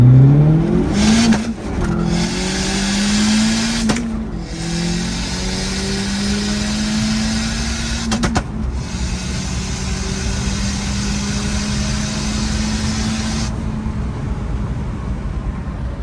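A 1989 Honda CRX with a V8 swap accelerates hard, its engine note climbing through several gears with brief dips at each shift, loud and close throughout with no talk.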